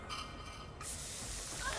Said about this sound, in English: gotta get the axe body spray.